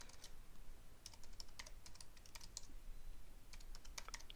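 Rapid, fairly quiet clicking of keys on a computer keyboard while typing a web address into an admin form, the taps irregular with short pauses between bursts.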